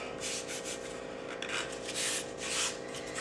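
Sandpaper rubbed by hand over a wooden block letter, a soft, close scratchy sanding in short repeated strokes with no talking.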